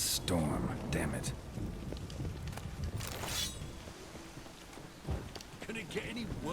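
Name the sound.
thunderstorm with rain in The Witcher 3 video game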